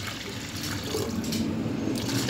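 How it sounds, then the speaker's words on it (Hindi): Water pours into a cooking pot holding turnips, meat and garlic for a shaljam gosht curry, a steady close splashing fill that grows slightly fuller as it continues, with no speech. "पानी डालेंगे"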